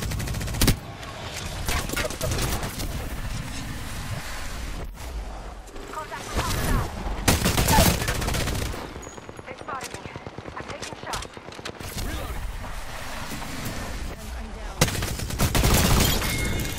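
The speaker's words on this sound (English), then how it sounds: "Listen, I am getting shot at." Gunfire in the Apex Legends video game, dense bursts of automatic fire and single shots with booming impacts, loud and continuous, a voice talking in between.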